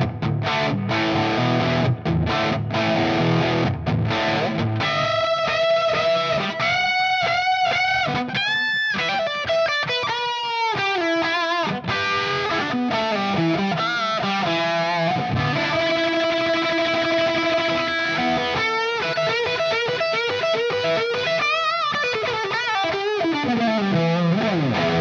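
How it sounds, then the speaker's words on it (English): Woodcraft Bobcat electric guitar played through its bridge pickup with distortion, a continuous run of sustained notes, bends and chords, loud and close with no talking. "So let's engage the bridge pickup."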